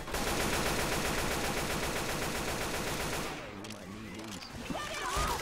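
Rapid automatic gunfire from an online shooter video game rattles continuously for about three seconds, then gives way to scattered shots and game effects, loud and close with no talking.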